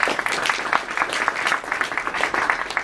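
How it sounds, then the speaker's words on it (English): Audience applause at a robotics club meeting, a dense run of steady clapping from a room of people lasting a few seconds, fairly close and loud with no talking over it. "So big round of applause for Google."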